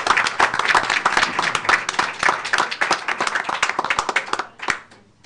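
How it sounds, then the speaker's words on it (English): A room at a school board of education meeting breaks into a round of applause, with crisp, closely spaced claps from a modest group that keep going for about four seconds before tapering off. "Please give the group renewing certification a round of applause."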